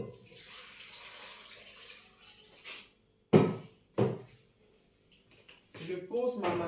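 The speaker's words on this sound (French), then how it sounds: "je pose ma marmite au feu" A cooking pot (marmite) holding meat, water, a stock cube and black pepper is set onto the stove burner. Running water gives way to two sharp metallic clunks close by, followed by a voice speaking.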